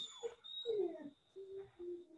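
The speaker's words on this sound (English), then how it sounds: "Is your dog whining?" A dog shut out of a room whines behind a closed door, a few short high-pitched whimpers and moans in a row, muffled and fairly faint.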